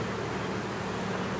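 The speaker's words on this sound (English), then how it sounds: "I got bees going into this hive." Honey bees flying into a backyard hive, heard as a steady, dense buzzing drone close by, even in loudness throughout, with no voices.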